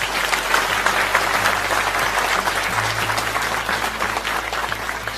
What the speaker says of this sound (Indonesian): saya minta teman-teman tepuk tangan untuk dia.